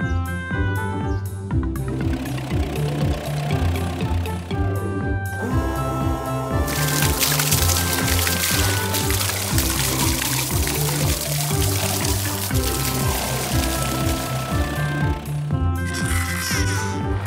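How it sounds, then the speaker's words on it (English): A cartoon-style gush of blue cement pours steadily from a concrete mixer into foundation holes for several seconds over bouncy background music. "Let's pour some blue cement in here."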